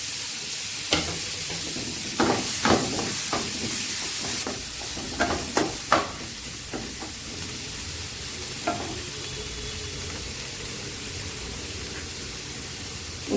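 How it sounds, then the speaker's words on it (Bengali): Chopped onion and chillies fry in a pan with a steady, close hiss of sizzling oil, broken by several sharp scrapes and clinks of stirring. "এখন পেঁয়াজ কুচিটা দিয়ে দিব।"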